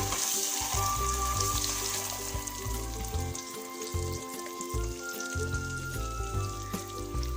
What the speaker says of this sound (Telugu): మీకు ఎన్ని గుడ్లు కావాలో అన్ని గుడ్లు ఇలా వేసుకొని ఫ్రై చేసుకోండి